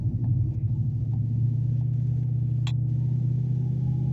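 A deep, steady truck engine rumble while driving, low and constant throughout, with a faint brief click partway through.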